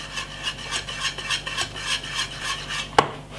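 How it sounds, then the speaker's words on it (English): A whisk scrapes and stirs peanut, oats and cornmeal porridge in a pot, steady rhythmic rasping strokes about four per second, close and clear, ending with a sharp clink against the pot. "See, this time I'm using my whisk."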